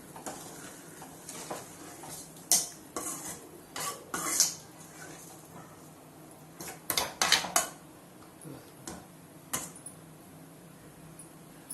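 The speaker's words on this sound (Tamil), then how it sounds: "நல்லா கிண்டி விட்டுக்கலாம்." Scraping and clinking of a utensil stirring eggplant curry in a metal pot, in irregular bursts over a low steady background hum.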